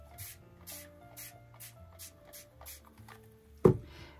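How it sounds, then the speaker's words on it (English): Several quick pumps of a spray bottle mist water over Distress Oxide ink in a papercraft resist technique. The bursts come in a steady rhythm, each a short hiss, followed by a louder knock near the end, close up. "And I'm going to spray it with water"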